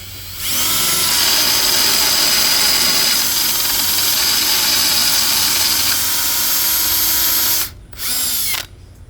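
A power drill bores out a broken head bolt on a Tecumseh engine, a loud, continuous high whine running for several seconds before cutting out briefly, then spinning up again for a short burst.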